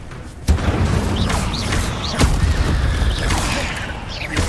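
A fire spell cast in the video game Hogwarts Legacy bursts with a sharp boom, then crackles among other spell effects and creaks, loud and close amid continuous game noise.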